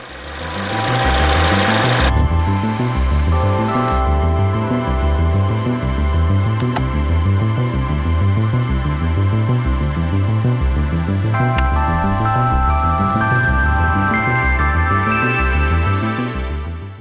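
Citroen C5 Aircross with a 1.6 PureTech petrol engine driving on country roads near Marrakesh, Morocco; a loud, steady, rhythmic engine drone with a regular pulsing beat, heard close throughout.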